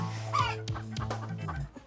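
A woman imitates a clucking hen in a few close, voiced bursts with a rising, pulsing rhythm, a human voice mimicking the bird rather than a real chicken.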